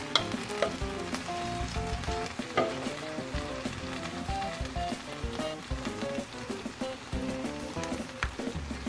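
Potato chips sizzle and crackle steadily as they fry in a pot of spicy Sindhi biryani, a continuous dense hiss with scattered pops and a stirring clatter, close and alone without speech.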